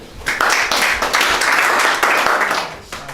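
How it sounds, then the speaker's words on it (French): A group of young people at a peer-educator training session on drug prevention breaks into applause, a short burst of crowd clapping that fills the span with a few uneven swells and no talking. "Est-ce qu'on peut applaudir pour elle?"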